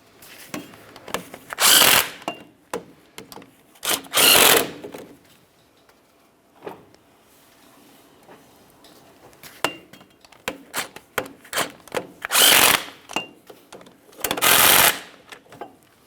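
Power drill or impact driver snugging axle seal mounting bolts on a 2015-2020 Cadillac Escalade front axle, with four loud whirring bursts between quieter clicks and handling clinks of tools and metal, close by and without talk.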